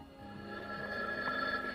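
A telephone bell rings faintly in a room, a steady trilling tone heard quietly in the background with no one speaking.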